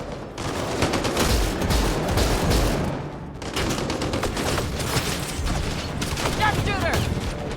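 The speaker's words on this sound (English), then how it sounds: "Oh, lots of things exploding." Heavy combat in the sci-fi video game Mass Effect Andromeda, with rapid volleys of blasts and bangs in two loud sustained stretches split by a short break, mixed with gunfire and a voice talking over the chaos.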